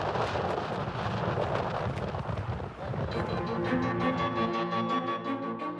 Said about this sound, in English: Now, we just need to hunker down and ride out this ferocious storm.